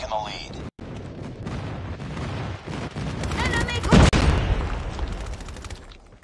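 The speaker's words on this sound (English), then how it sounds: "And a friendly airstrike incoming." A friendly airstrike rains down in a Call of Duty-style shooter, with rumbling blasts and gunfire that swell into a loud explosion about two-thirds through, while a player keeps talking over the battle.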